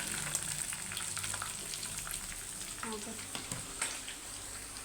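Taro roots (kochur mukhi) frying in hot oil in a home kitchen, a steady close sizzle with scattered crackles and pops, while a voice talks faintly underneath.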